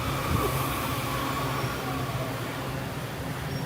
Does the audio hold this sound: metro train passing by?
yes